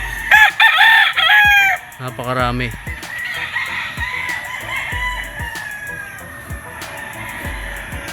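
Roosters at the Firebird gamefowl farm, several loud crows close by in the first seconds, then scattered clucks and soft knocks, with one short spoken word.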